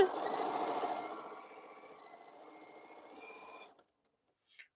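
Sewing machine stitching quilt pieces in one steady run, its rapid needle rhythm loudest at the start and easing off before stopping, followed by a brief faint click.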